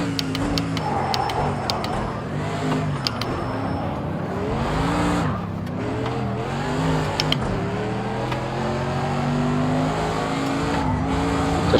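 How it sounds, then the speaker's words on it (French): A race car drifts through a corner in the Project Cars 2 racing game, its engine droning steadily while tires squeal and skid continuously and loudly throughout, with no talking. "Je pars un petit peu en drift là."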